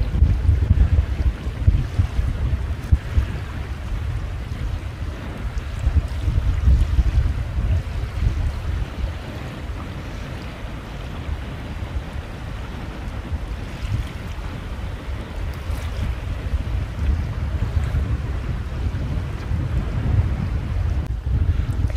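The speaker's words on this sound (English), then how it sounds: "Today we had a great sail." Sailboat under way in steady wind on open sea off the Queensland coast, with a continuous low rumble of wind buffeting and water rushing past the hull, loud and unbroken with no voices.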